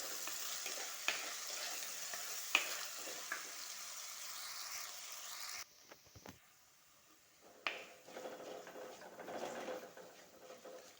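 Sliced shallots and green chili sauté in a pan for a Kerala coconut curry, giving a soft, steady sizzle with occasional stirring taps that drops out briefly and then returns.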